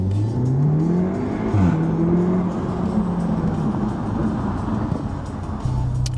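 An Audi S3 saloon with a stage 1 tune and resonator-delete exhaust revs through a rising and falling engine note, loud and close with a steady throaty drone and no talking.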